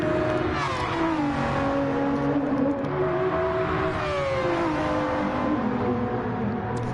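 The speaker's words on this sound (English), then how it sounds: "Just love the sound of that Incy's car." A racing car engine drones and revs, its pitch sliding up and down through gear changes, loud and continuous with no voices.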